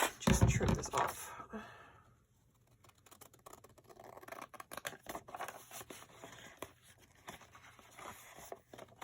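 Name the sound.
trimming junk journal paper with scissors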